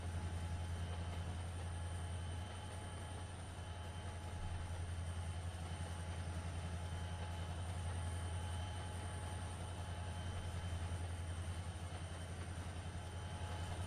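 A train starting up at Horseshoe Curve in Trainz Simulator 2 makes a low, steady rumble, fairly faint and unbroken, with a thin high whine above it.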